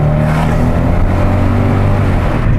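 A Mercedes-Benz CLS 55 engine rumbles loudly and close up, a deep, steady idle with a low throbbing drone and no talk over it.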